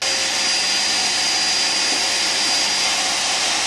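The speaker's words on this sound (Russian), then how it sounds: "Пылесосит моя девочка. Убирает в комнате." A vacuum cleaner runs in a room at home, a steady, loud, close whine and roar that holds unbroken throughout with no other sounds.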